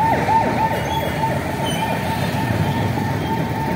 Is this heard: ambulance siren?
yes